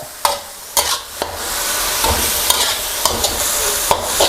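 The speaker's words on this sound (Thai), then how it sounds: "นะครับตอนนี้กลิ่นหอมขึ้นมาแล้ว" Vegetables sizzling in a hot pan, with a utensil scraping and tossing them in a steady rhythm, close and loud, with no voices.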